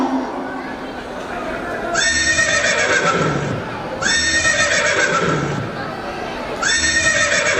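A horse neighs three times in repeated loud bursts during a staged school annual function play, each whinny rising over a continuous background of voices and stage noise.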